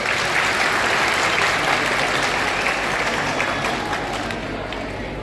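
Wedding guests break into loud, sustained applause and cheering for the bride, a dense continuous clapping that holds strong before easing slightly toward the end.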